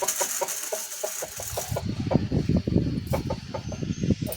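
A chicken clucks in quick, repeated bursts close by, its short calls tumbling one after another with some rustling around it.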